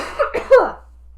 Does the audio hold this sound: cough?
yes